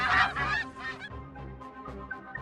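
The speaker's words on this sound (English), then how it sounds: "The geese begin to chase us back, chase us back, chase us back" Several geese honk loudly and close by on a summery morning, a dense burst of overlapping calls at the start that thins into scattered, quieter honks.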